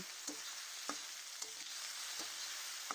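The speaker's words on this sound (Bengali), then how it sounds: "এবার কড়াইতে তেল দিয়ে তাতে আমি পেঁয়াজ আর আলুটা ঢেলে দিলাম" Potatoes and onions frying in oil in a wok, a quiet steady sizzle with a few soft periodic scrapes of stirring, no talk.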